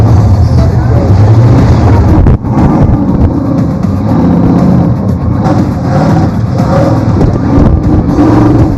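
An off-road truck with rear steering drives in a competition course, its engine loud and close with rough, uneven revving and a brief jolt, alongside commentary voices.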